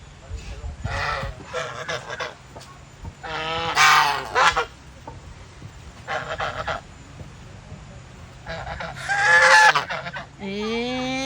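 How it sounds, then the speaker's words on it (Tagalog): Bursts of loud gobbling calls from several turkeys, coming in clusters with pauses between, close by, with faint background chatter. "Ayan ang mga pabo. Madaming pabo."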